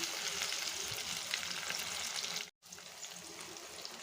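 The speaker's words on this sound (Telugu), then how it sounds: "చూసారు కదా, ఎగ్స్ కూడా మంచిగా ఫ్రై అయ్యాయి" Eggs fry in a pan with tender tamarind leaves, giving a loud, close, continuous sizzle that cuts out briefly partway through and then resumes.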